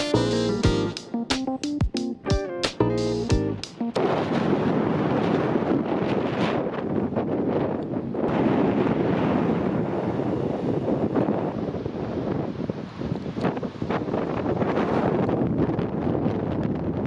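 Strong wind in Iceland buffets the microphone with loud, continuous rumbling gusts for most of the recording, after a few seconds of music at the start.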